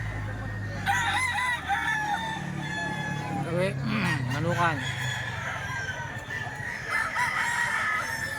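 Roosters crow loudly at a poultry market, several long calls overlapping amid a busy backdrop of clucking fowl, with a voice speaking briefly.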